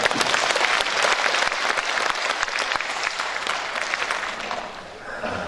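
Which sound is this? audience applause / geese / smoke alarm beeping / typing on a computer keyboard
audience applause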